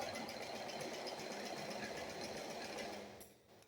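A sewing machine stitches a blouse and its lining together, running as a steady, even mechanical whir at moderate level for about three seconds before slowing and stopping.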